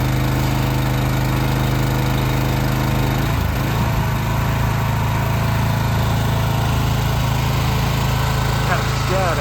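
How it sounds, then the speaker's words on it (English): Generator mounted on a horse-drawn cart running nearby, a steady loud engine drone with a low hum throughout, its pitch dipping briefly partway through. "It's got a generator on it."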